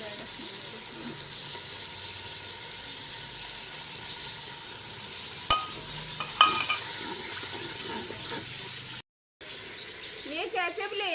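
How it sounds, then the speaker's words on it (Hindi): Tamarind water hits a hot pan with a steady sizzle and frying hiss, stirred throughout, with a couple of sharp clanks, a brief dropout near the end and a voice starting to talk in the last moments. "इमली का पानी डालूंगी मैं।"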